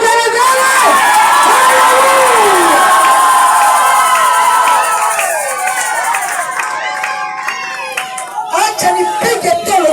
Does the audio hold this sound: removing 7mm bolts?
no